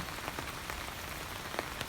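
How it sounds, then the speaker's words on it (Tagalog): Heavy rain pours steadily onto a surface, a dense even hiss with scattered louder drops, constant throughout. "Sobrang ulan po ngayon."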